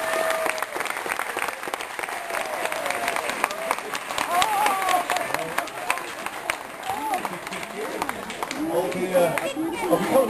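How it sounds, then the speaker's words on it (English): A television studio audience applauds the crew during a warm-up, sustained loud crowd clapping with cheering and a voice speaking over it throughout. "Big round of applause for the crew."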